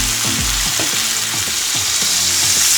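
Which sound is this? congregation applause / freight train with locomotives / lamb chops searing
lamb chops searing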